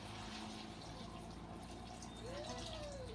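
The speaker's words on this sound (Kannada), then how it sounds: "ಈಗ ನೋಡ್ರಿ ಇದ್ರಾಗ ಇಷ್ಟು ನಾ ನೀರು ಹಾಕ್ತೀನಿ" Water is poured into a cooking pot over fried food, a quiet, steady rushing splash that runs without a break.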